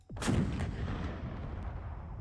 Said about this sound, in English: Let's aim that tank there. Fire.